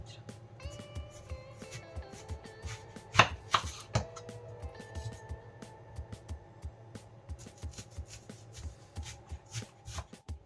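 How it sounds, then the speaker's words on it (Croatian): A knife cuts an onion into 1 cm rings on a board, giving a series of crisp, close chopping taps at an irregular rhythm with quiet pauses between them. "Sečemo luk na kolutave debljine 1 cm"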